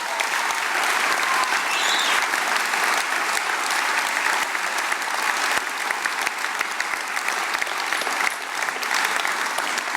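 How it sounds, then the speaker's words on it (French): Sustained, dense applause from an audience honoring campaign supporters at a French-speaking political candidates' rally, loud and steady for the full stretch with no voices breaking through. "j'aurais aimé qu'on les applaudisse tous très fort."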